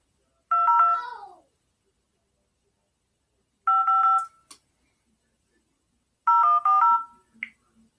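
Electronic telephone tones sound during a call to a number, three separate short bursts of stepped, pitched beeps spaced evenly apart with silence between, clear and close, and no voices.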